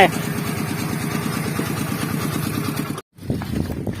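A small single-cylinder Kubota 95 engine on a walk-behind tractor chugs steadily with a rapid, even thumping beat and cuts out briefly for a moment before resuming.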